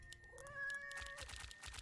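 Nekomata cat units in the video game Legion TD 2 give a couple of short, bright meows, one a drawn-out tonal mew, clear and close with no talking.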